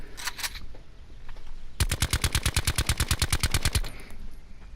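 Automatic rifle fire at moving targets in the video game Blackout, with a foregrip on the gun: a short burst first, then a long, steady, rapid-fire burst of evenly spaced, loud, close shots.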